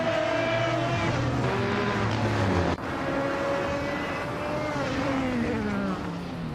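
Race cars roaring around Paul Ricard in a racing video game, led by a 2015 Porsche 919 hybrid, with a continuous loud engine drone whose pitch rises and shifts as the cars accelerate, plus a brief cut midway.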